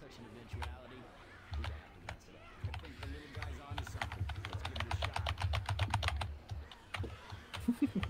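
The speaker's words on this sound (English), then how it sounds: "someone needs to move their keyboard further away from their mic." Computer keyboard typing picked up by a player's microphone during an online Left 4 Dead 2 session: rapid, uneven clacking keystrokes run throughout over a low hum, with voices talking.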